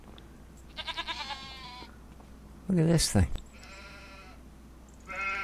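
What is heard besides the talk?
goats bleating in video game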